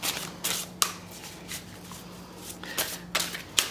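Tarot cards are shuffled and handled in a quick series of crisp, riffling bursts, each a short papery flutter, close and fairly quiet, separated by brief pauses with a faint steady hum underneath.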